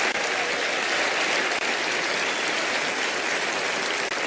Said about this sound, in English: let's give Mark a nice round of applause.